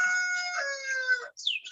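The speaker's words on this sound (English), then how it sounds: "I've never had a rooster crowing." A rooster crows once in a long drawn-out call, clear and fairly close, with a brief higher squawk trailing right after and no voices over it.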